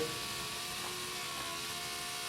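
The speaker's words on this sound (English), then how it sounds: "I only cut halfway through the MDF that I'm going to use for the base of my jig. So that's what I'm doing here." A power tool cuts halfway through MDF for the base of a shaper jig on a workbench, giving a steady, loud, continuous whine with no breaks and no talk.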